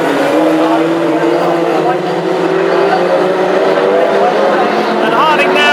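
Classic hot rod race cars thunder past at a Northampton oval meeting, engines roaring loudly and steadily throughout without a break.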